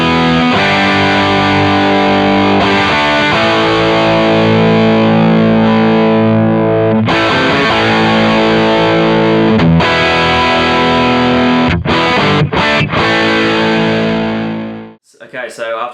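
Electric guitar played through a Kemper profile of a Marshall Plexi, pushed by a graphic EQ volume boost acting as a clean boost, for a classic hard rock tone: loud, continuous distorted chords with short gaps near the end before cutting off.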